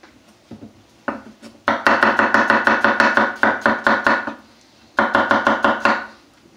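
A knife chops food on a cutting board in fast, even bursts of crisp knocks, close and loud, with a brief pause before a second run of rapid strokes.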